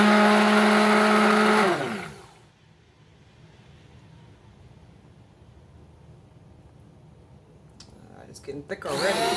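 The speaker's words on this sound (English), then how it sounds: "I got my powerful blender" A powerful blender whirs loudly while mixing cold process soap, its pitch dropping as it spins down after about two seconds, then a quiet stretch before brief bursts of blending return near the end.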